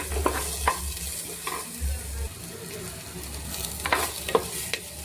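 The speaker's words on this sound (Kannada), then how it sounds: "ನಾವು ಆ್ಯಡೆಡ್ ಆನಿಯನ್, ಸ್ವಲ್ಪ ಫ್ರೈ ಆಗಬೇಕು" Onion frying in a pan for an egg fry dish, a soft, steady sizzle broken by several stirring scrapes and clinks of a utensil against the pan, heard close with no talking.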